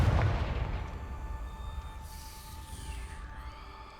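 The Confringo fire spell in Hogwarts Legacy bursts with a single deep booming blast at the start, then rolls off into a fading rumble with faint tonal game effects lingering.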